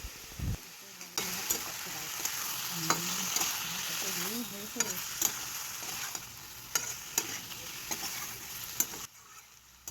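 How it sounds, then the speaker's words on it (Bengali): Spice paste with Kashmiri red chilli powder and coriander-cumin powder stir-fried with a little water in a pan, giving a steady close sizzle broken by scraping stirs of the spoon, no talking. "এবার সামান্য একটু জল দিয়ে মশলাটা ভালো করে কষিয়ে নেওয়া হবে"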